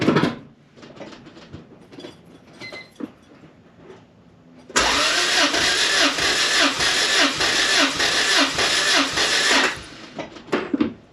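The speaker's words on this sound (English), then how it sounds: "I'm gonna step on the throttle body for the plate to open." A car engine bursts into loud, sustained revving for about five seconds as the throttle body plate is pushed open during dyno re-tune preparation, then drops back to a quieter idle with faint clatter around it.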